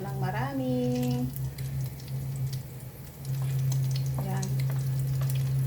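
Minced pork frying in a pan for mini burgers, a constant sizzle beneath someone speaking, with a steady electric hum running through most of it.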